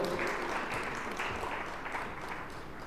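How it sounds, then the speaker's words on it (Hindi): Brief, dense applause from a gathered crowd welcoming a newly elected secretary at a Jat community meeting, steady and fairly close, easing off slightly toward the end. "जोरदार तालियों से स्वागत हो"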